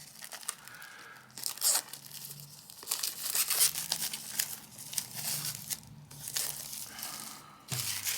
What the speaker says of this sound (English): We'll get the shrink wrap off to start with.